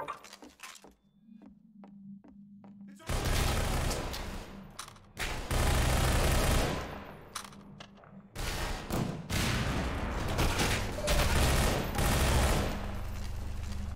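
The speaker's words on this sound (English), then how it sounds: "The gunplay has been changed to be more punchy." Rapid bursts of gunfire from a Half-Life 2 mod video game, punchy clustered shots in loud volleys separated by brief pauses, with no talk.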